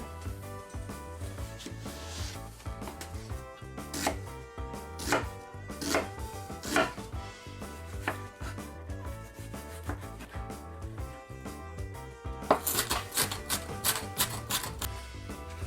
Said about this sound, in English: So let's get chopping.